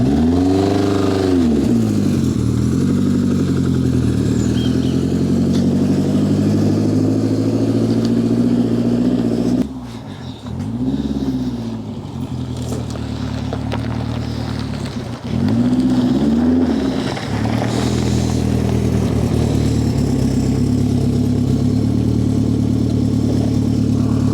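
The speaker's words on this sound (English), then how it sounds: "So there's a shot of like Lotus coming in." A Lotus Esprit GT3 sports car drives in with a loud, close engine note whose pitch keeps rising and falling. The note drops away briefly twice, then swells back up.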